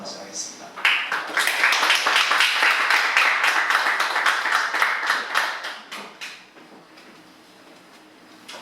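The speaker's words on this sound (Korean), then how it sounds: "박수로 맞이하겠습니다." Audience applause welcoming a professor to the front at a church book talk, a dense wash of clapping that swells quickly, holds steady for several seconds, then thins out and fades near the end.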